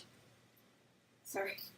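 A single sharp sneeze bursts out after a second of near silence in a quiet indoor room, close and loud, with a bright spray of noise trailing off.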